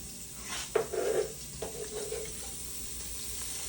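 Shallot and garlic hitting a hot pan, a sharp burst of sizzling with a few stirring clatters, close and loud at first, then settling into a softer steady fry with no one talking.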